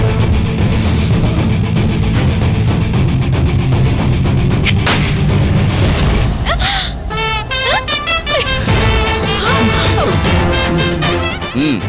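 Gunshots ring out during a shooting contest in a Tamil TV serial scene, sharp loud bangs over a dense music score and dramatic effects, with voices present throughout.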